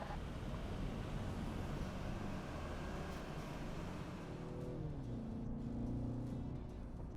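A BMW 330i and an Audi A5 pulling away from a standstill, a broad, steady engine and road roar with rising tones under heavy wind buffeting, continuous and moderately distant, with no speech.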